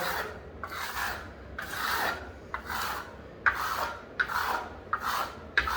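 Steel trowel dragged over Venetian plaster on a TV wall feature, a steady series of about seven rasping sweeps with scratchy edges, close and moderately loud, no voices.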